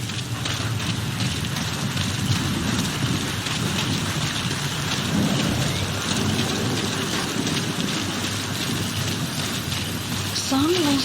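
Steady rainfall in Metal Gear Solid V: The Phantom Pain pours down continuously, a dense hiss of drops with a low rumbling undertone throughout.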